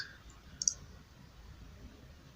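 Two quick, faint mouse clicks on a submit button, heard close against a quiet room hiss.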